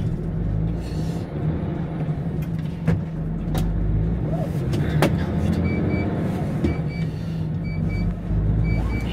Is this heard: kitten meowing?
no